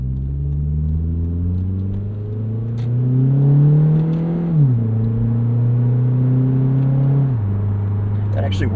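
A 2008 Mitsubishi Eclipse Spyder convertible accelerates in manual mode, its engine rising steadily in pitch through two gear changes, each marked by a sudden drop in revs before climbing again, heard from inside the car.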